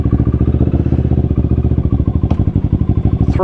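A loud aftermarket exhaust on a Kawasaki Ninja motorcycle with an erratic idle and slack throttle cables, idling close by in a steady, rapid chain of deep thumping pulses with no talk over it.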